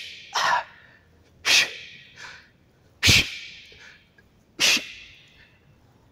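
Sharp forceful exhales during a martial arts sit-up exercise, four loud breathy bursts spaced about a second or more apart, close and alone with a faint softer breath between.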